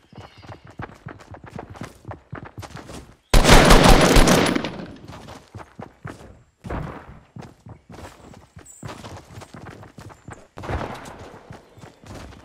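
Video-game gunfire cracks out in a sudden loud burst partway through, amid a busy spread of sharp clicks, thuds and footstep-like clatter that stops and starts.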